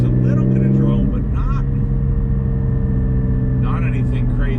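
Porsche GT4 with a Soul Performance over-axle exhaust, valve disconnected, giving a steady low cabin drone while driving, with faint voices over it.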